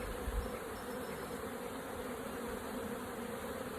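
Honey bees swarm and buzz steadily around an open hive during a midday inspection, a dense, continuous drone close by with no talking.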